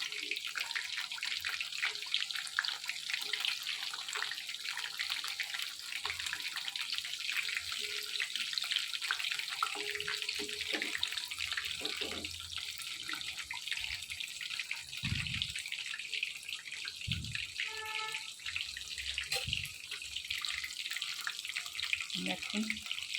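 Paneer pakoda frying in hot oil, a steady bright sizzle and crackle that runs throughout, close and even, with a few low knocks and bumps from the pan.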